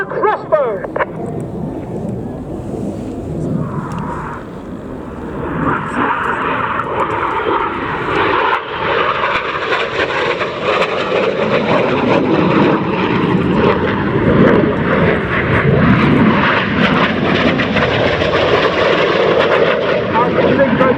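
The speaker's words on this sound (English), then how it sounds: "Once again, each aircraft down at only 100 feet." Jet aircraft passing low at about 100 feet during a RAF Cosford airshow display, a loud sustained roar that swells over twenty seconds, with an announcer's voice over a public address system underneath.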